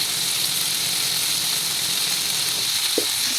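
Ivy gourd curry with chili powder frying and being stirred in a pan, giving a steady, loud, close sizzle with a brief scrape near the end and no voices.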